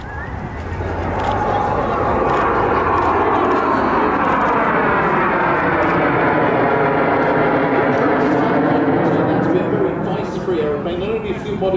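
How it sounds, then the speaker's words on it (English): An English Electric Canberra jet aircraft powered by Rolls-Royce Avon engines roars loudly and continuously, its pitch rising and falling as it passes, with a voice talking over it. "the ones that are powering this aeroplane are Rolls-Royce Avons"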